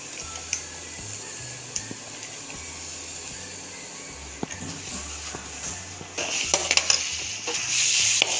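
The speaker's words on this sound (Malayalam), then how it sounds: "നന്നായിട്ട് ഇളക്കി കൊടുക്കട്ടെ" Onions frying with crushed ginger and garlic for a beef dum biryani, a soft continuous sizzle with light scraping stirs and clicks, growing louder and hissier toward the end.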